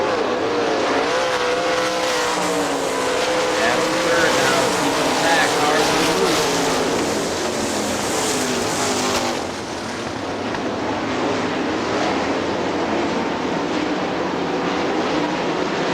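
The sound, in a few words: sprint race cars racing at Hartford Speedway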